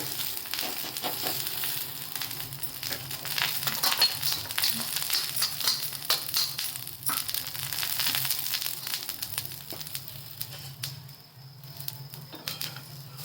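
Bajra thepla flatbread with sesame seeds sizzling on a pan, a continuous close crackling fry with small scraping and pressing sounds and a brief quieter dip near the end.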